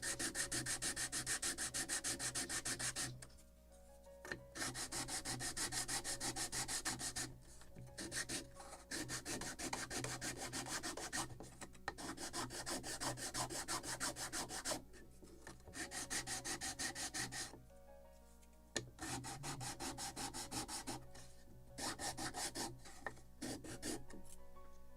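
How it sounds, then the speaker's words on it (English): Wood is rubbed back and forth on a sanding block while building a model ship kit of the 1776 gunboat Philadelphia. Close, rhythmic rasping strokes come in long runs with short pauses, and no one speaks. "And the same on the sanding block."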